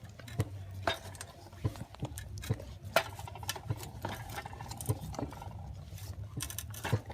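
Stirring and beating thick tuo zaafi, a Ghanaian maize porridge, in a pot, with repeated sharp knocks and scraping of the spoon against the pot at an irregular rhythm, close and moderately loud.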